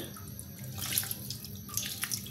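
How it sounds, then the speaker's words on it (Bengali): Hands washed under a running kitchen tap, a soft, faint water stream with small splashes, brief and close, no one speaking. "এখন হাতটা একটু ধুয়ে"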